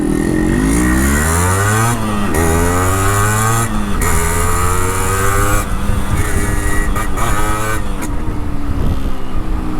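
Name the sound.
Yamaha RX100 motorcycle engine with new exhaust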